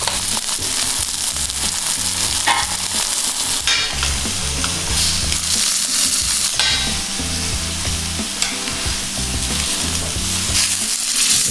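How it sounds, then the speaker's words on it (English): A steak pressed down in a hot pan fries with a loud, continuous crackling sizzle that holds steady throughout, dense popping spatter close up and no talk. "in we go with our steak. You wanna make sure you hear that sizzle"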